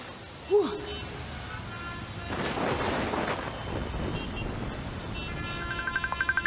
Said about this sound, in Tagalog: Ako, grabe na yung ulan.